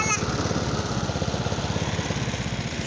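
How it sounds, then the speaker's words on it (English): A lawn mower engine warms up just after starting, a steady close putter with a rapid, even pulse and no talk over it. "I just started this mower up to let it warm up for a while."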